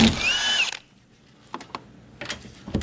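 A power tool whirs in one loud short burst while removing strut nuts on a 2004 Toyota Camry, followed by quieter clicks and clanks of parts being handled.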